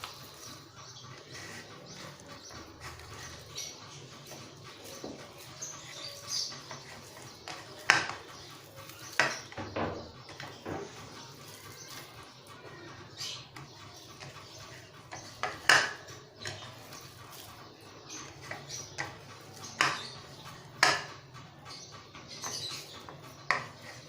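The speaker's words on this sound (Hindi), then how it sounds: "अब हम इन तमाम चीज़ों को अच्छी तरह से मिक्स करेंगे। ये इस तरह से हाथों की मदद से।" Hands mixing chopped green chillies, green onion and other hari mirch pakora filling ingredients in a bowl, giving soft scattered squelches and light clinks against the dish at close range, with no talking.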